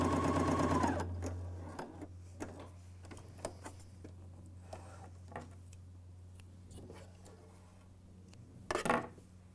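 A BERNINA L 620 coverstitch machine sews a gathering stitch on fine fabric in a brief, rapid mechanical burst at the start. Quiet clicks and handling of the fabric follow, with a short rustle near the end.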